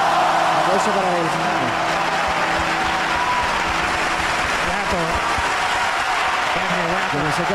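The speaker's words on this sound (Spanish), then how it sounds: "Aplauso para él." Studio audience at a Spanish-language TV talk show claps steadily for a performing swing duo, a dense wash of applause holding throughout with a few voices rising underneath.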